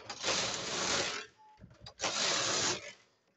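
A recently restored knitting machine knitting tucked rows, with two long mechanical carriage passes that rattle and clatter, separated by a short pause with softer clicks of a lever being changed.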